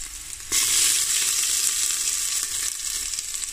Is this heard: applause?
no